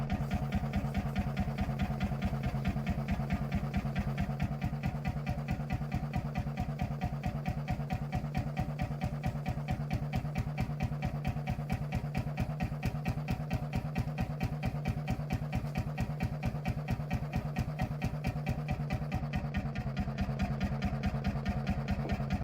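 Vintage hot-bulb diesel engine on an old Société Française 402 tractor idling with a steady, rapid thumping rhythm that stays even and loud throughout, with no voices.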